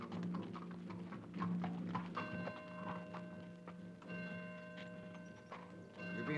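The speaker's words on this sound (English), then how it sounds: "They look very thin for carriage horses." Carriage horses on a Victorian-era estate clopping steadily with rhythmic hoof beats, moderately near, over a hum of background noise and a faint ringing tone, with no talk.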